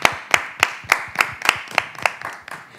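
A single pair of hands claps in a slow, even rhythm, about ten sharp, close claps, with no talking. It is from a French-language broadcast segment introducing a speaker.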